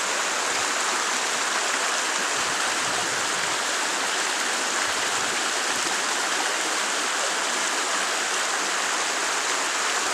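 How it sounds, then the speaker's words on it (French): A wild mountain torrent rushing steadily, a dense broadband roar of water at constant loudness throughout with no voices. "C'est tout aussi un torrent très sauvage"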